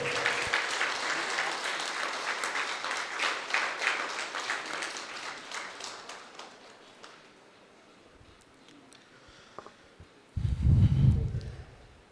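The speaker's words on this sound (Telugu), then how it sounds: "ఒకసారి గట్టి క్లాప్స్ కొడదాం." A meditation gathering's audience bursts into loud, dense applause that gradually thins and fades away, followed by a few scattered claps, near silence and then a brief low thump near the end.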